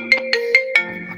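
A mobile phone ringtone goes off nearby, a short bright repeating electronic melody of four quick rising notes, loud and clear with no talking over it.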